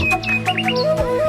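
Quick, bright bird chirps and short whistled calls repeat over a steady background hum, close and fairly loud, at the National Zoo in Mirpur, Dhaka.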